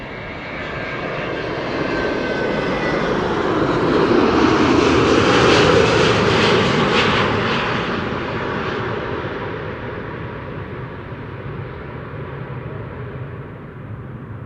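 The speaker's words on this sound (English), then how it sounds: "Delta Airlines Flight 162 arriving from Minneapolis, Minnesota" A Delta Airlines A330neo jet arriving from Minneapolis lands at Amsterdam Schiphol, its engine roar building to a loud peak midway and then fading as it touches down and rolls away, alone without speech.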